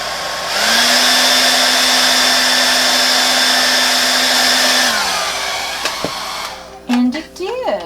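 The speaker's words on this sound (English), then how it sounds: "We're going to blow it out with the hairdryer" A hairdryer with no nozzle attachment blows steadily and loudly at close range for about five seconds during a Dutch pour acrylic painting session, then winds down and cuts off, followed by brief handling clatter.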